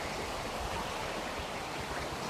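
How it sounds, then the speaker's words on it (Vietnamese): Waterfall and stream flowing down from primeval forest over rocky terrain, a dense, continuous roar of rushing water, steady and close with no other sounds. "Mình đang nói đến cái khu vực thác này là được chảy nước, được chảy từ cái rừng nguyên sinh ở bên thôn Xuân Mới ấy"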